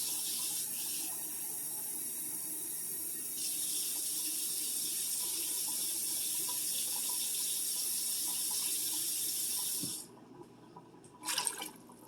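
Steady rushing water pours continuously into a pot for about ten seconds, then cuts off, followed by a brief splash or clatter.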